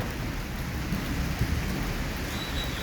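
Steady rain falling on a rainy day, a dense continuous hiss with low rumbling underneath suggesting distant thunder, a brief louder patch midway, and no voices.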